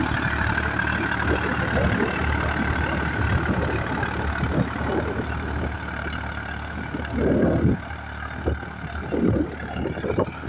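A 4x4 tractor engine runs in an open farm field, a steady low diesel rumble that holds throughout with a few louder surges and rustling bumps.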